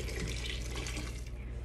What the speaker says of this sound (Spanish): Vamos a agregar 4 tazas de agua.